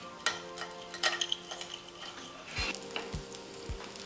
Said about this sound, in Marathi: आता त्याच्यावर छान हा डिंख आपण तळून घेणार आहे